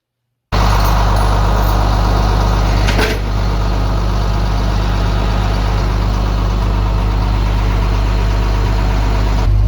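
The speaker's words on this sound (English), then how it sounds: "So now I'm on the tow truck." A tow truck's engine runs in a loud, steady idle close by, with a continuous low rumble and no voices over it.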